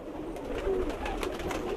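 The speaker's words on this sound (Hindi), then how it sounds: "ये मेरा बड़ा प्रमोद कबूतर है जी" A male breeder pigeon on a rooftop coos in soft, low, repeated throaty pulses, close by and alone, with no speech over it.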